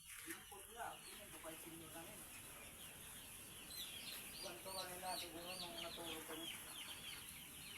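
A hen named Tarzan tends her chicks, with soft clucks and peeping calls scattered through the clip, strongest in the second half, while a person talks nearby over steady outdoor background noise.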